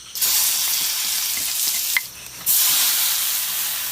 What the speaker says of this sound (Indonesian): Oke teman-teman, kita akan tumis bumbunya.